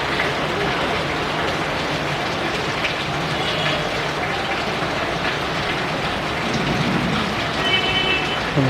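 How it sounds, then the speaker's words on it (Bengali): Heavy rain falls at night over a city, a steady dense hiss of drops on surfaces that holds at an even, fairly loud level throughout, with faint traffic-like rumble beneath. "সুন্দর বৃষ্টিটা হচ্ছে।"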